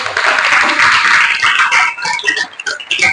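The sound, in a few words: audience applause after a question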